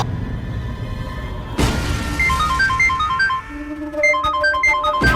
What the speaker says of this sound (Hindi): नहीं, रात को वीर जी का फोन